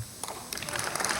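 Audience at an economic forum in Rufisque breaks into applause, scattered claps building to a denser, fairly faint patter in a large room.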